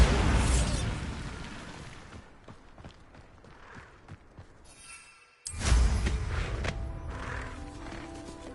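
A Bombarda spell explosion from Hogwarts Legacy hits with a sudden loud boom after a brief near-silence. It follows quieter scuffling and crackling, and a noisy rumbling tail lingers.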